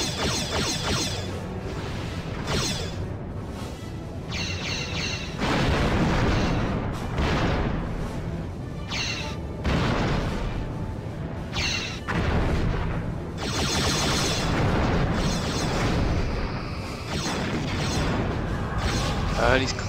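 Photon torpedoes fire in the Star Trek Bridge Commander space combat game, loud booming weapon blasts mixed into a dense, busy soundtrack with a person talking throughout.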